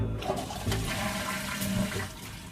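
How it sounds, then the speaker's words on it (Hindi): A toilet flushes close by, a loud rushing gush of water that tapers off toward the end. "मुझे फ्लश की आवाज सुनाई दी।"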